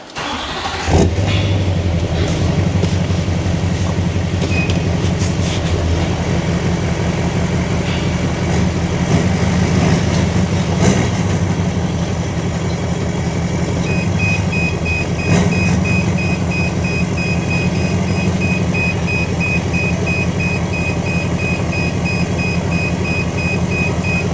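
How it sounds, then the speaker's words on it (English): Vehicle engine cranks and catches near the start, then idles and runs loud and steady close by for over twenty seconds with slight rev changes, while the vehicle backs into a dump trailer. "let's get this thing fired up and backed into the trailer"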